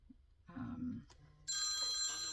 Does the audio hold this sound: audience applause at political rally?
no